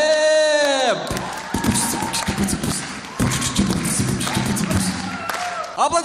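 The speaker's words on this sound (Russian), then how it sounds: "Аплодисменты, друзья!" At a televised talent show qualifying round, a held musical note cuts off and the audience erupts in cheering and clapping, with shouts and thumping mixed into a lively, fairly close crowd roar.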